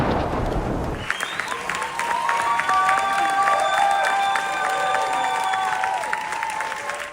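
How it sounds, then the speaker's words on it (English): A large audience breaks into sustained, loud applause with scattered cheers as Delroy Lindo comes on stage at a SAG-AFTRA screening of Sinners. The dense clapping follows a brief burst of noise and holds steady before easing at the end. "Delroy Lindo got a rousing ovation from the crowd as he came on stage"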